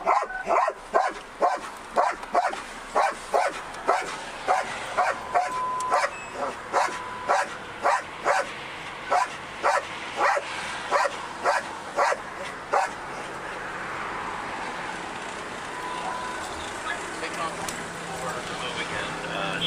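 A police dog barks in a fast, regular series of loud, close barks during a police pursuit, and the barking then fades under a voice toward the end.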